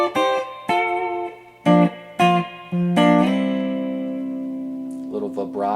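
Electric guitar plays part of a solo: a series of clean, sharply picked notes and short phrases, ending on a long sustained note followed by a few quick plucks, close and alone without talk.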